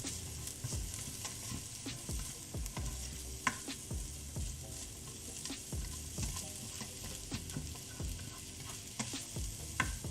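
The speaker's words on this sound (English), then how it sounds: "just about a medium heat so that it stir fries and doesn't burn" Garlic and ginger stir-fry over medium heat for chicken tikka masala, a continuous sizzle with frequent scraping stirs and clicks against the pan, close and steady.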